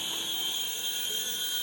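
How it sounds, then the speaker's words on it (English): A small Syma indoor toy helicopter whirs in flight with a thin, steady high-pitched motor whine, constant and close throughout. "Now this is an indoor helicopter"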